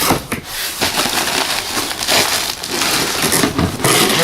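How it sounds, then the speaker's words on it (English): An Amazon shipping box holding a Corsair CX430 power supply being opened, loud tearing, crinkling and scraping of cardboard and packing material going on continuously at close range. "So go ahead and open it. Jeez Louise. Alright, guys, opening the box here."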